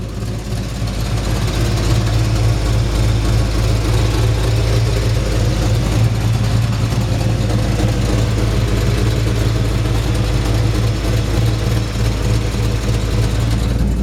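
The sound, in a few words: 1953 Chevrolet 3100 truck engine running, aggressive exhaust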